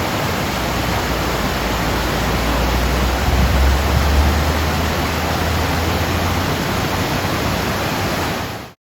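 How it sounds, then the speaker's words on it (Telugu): Sunwapta or Athabasca Falls in Jasper, Canada, a steady, powerful rushing roar of falling water, loud and unbroken throughout with no voices, ending in a sudden cut. "సో ఇప్పుడు మీరు కూడా నాతో పాటు ఈ వాటర్ ఫాల్ని ఎంజాయ్ చేయండి"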